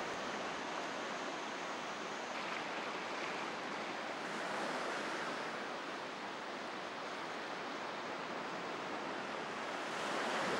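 Sea waves washing onto an island shore during a red crab migration, a continuous broad roaring wash with gentle swells in loudness and no voices.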